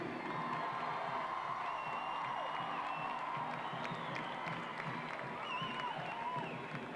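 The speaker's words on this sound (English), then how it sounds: "a big round of applause for Heather O'Reilly and the United States women's national team" Stadium crowd at a US women's national soccer team match against China, applauding and cheering for the players, a broad, distant wash of clapping and whoops with scattered shouts rising over the steady roar.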